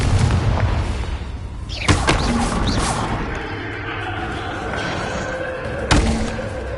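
A Bombarda spell blast in Hogwarts Legacy on PS5 lands as a heavy thudding boom, with a second muffled impact a few seconds later over a dense, rumbling game soundscape.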